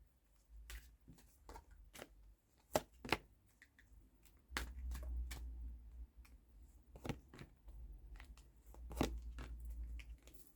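Fortune cards being shuffled for an astrology reading, giving a run of crisp riffling and snapping taps with soft rustling in between, steady and close, with no talking.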